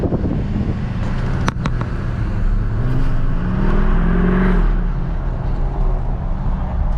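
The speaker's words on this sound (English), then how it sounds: "I kind of like how this truck is too, with the exhaust and the way it sounds." An LML Duramax diesel truck accelerates, its exhaust a loud, steady low rumble and drone, heard from inside the cab with a slight swell in pitch midway and a couple of brief clicks.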